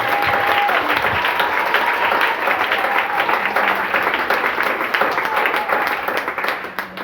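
A church congregation applauds throughout, with dense sustained clapping that stays loud and steady before thinning slightly toward the end.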